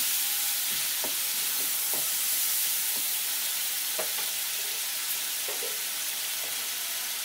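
Masala spices stirred and fried in a pan for a Bengali banana stem and prawn dish, a steady soft sizzle with several light scraping strokes of the spoon, close and alone with no talk.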